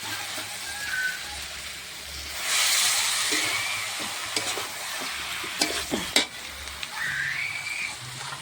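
Meat sizzling and hissing in a hot pan, with scraping and clinking from stirring and a sharp surge of sizzle partway through.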